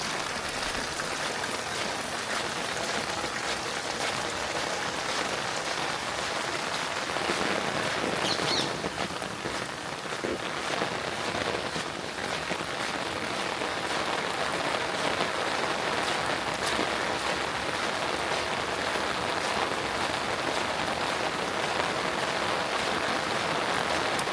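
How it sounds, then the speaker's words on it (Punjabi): Monsoon rain falls steadily on surrounding surfaces in a village, a dense continuous hiss with scattered drops that holds at an even level throughout. "ਹੌਲੀ ਹੌਲੀ ਘਟ ਰਿਹਾ ਮੀਂਹ ਹੁਣ"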